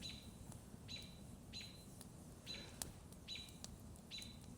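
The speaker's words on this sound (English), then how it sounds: "All I hear is birds" Short, high bird chirps come at a regular pace over a quiet, steady background in a pine forest, fairly distant and faint.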